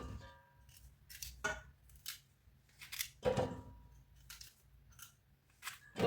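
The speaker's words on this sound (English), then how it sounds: "You have to cut here off, and the tip, cut it off with knife." Okra tips being sliced off with a knife, giving several sharp, close cutting snips at irregular intervals with quiet gaps between them.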